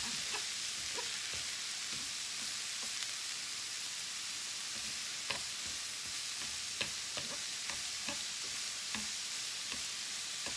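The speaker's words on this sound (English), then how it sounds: "And give this a good stir." Chicken alfredo sizzles in a pan as chopsticks stir it, giving soft scraping clicks and taps over a steady quiet frying hiss, with no talking.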